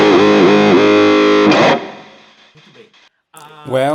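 An electric guitar plays through a Cuvave Cube Baby amp set to distortion, sounding loud, sustained chords for about a second and a half before they cut off, then a few faint scratchy notes and a brief louder strum at the end.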